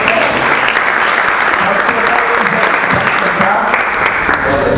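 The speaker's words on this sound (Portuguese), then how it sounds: "Você pode dizer um amém do aplauso ao Senhor?" Congregation applauding for the Lord during a church worship service, dense steady clapping from a crowd with voices mixed in, sustained throughout.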